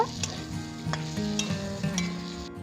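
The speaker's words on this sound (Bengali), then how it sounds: "এবার এখানে ভেজে রাখা সবজিগুলো দিয়ে দেব এবার নেড়ে নেব" Fried vegetables and tomato stirred in a hot pan, a steady sizzle with repeated scraping strokes of the spatula every half second or so, close and alone.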